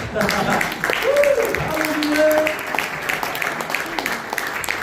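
A church congregation applauds during a worship service, a broad wash of clapping with voices calling out over it, steady for several seconds before easing off.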